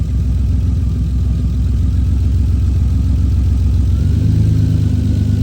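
A 2003 Lexus IS 300 engine idling with the exhaust not connected, a loud, steady low rumble close by that carries on without a break, with a slight shift in pitch near the end.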